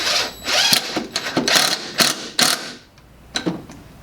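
A power drill drives a screw into wood in short bursts of whirring and ratcheting, started slowly and then sped up, loud and close with brief pauses between runs.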